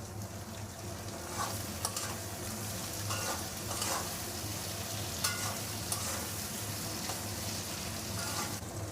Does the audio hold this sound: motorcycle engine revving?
no